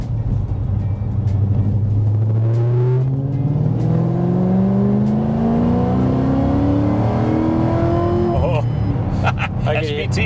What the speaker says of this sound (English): I could hear the supercharger whining a little bit.